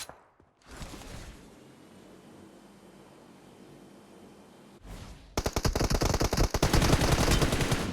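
Rapid bursts of gunfire in the mobile battle-royale game PUBG Mobile, loud and dense in the final seconds after a quieter stretch of ambient game noise, with no talk.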